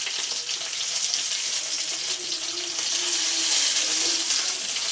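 Fish frying in oil for a green-spiced fish fry, giving a steady hissing sizzle that holds evenly and rises slightly toward the end, close and moderately loud, with no voices.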